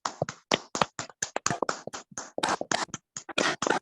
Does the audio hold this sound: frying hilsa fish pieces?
no